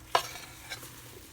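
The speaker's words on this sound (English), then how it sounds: "So we're going to stir and stir and stir." Marshmallows and butter stirred in a pan over very low heat, with one sharp spoon scrape followed by a softer second scrape against a quiet, faint background.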